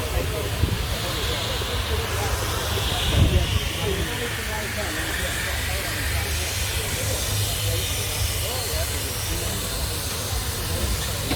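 A John Fowler steam engine at the Masham steam rally hisses steadily with a broad, continuous rush, close by, over a low rumble and the murmur of a crowd and voices.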